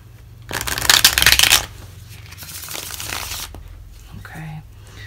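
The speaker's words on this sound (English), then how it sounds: "One more shuffle and your cards are ready." A deck of tarot cards gets one loud, close riffle shuffle, followed by softer rustling and handling of the cards.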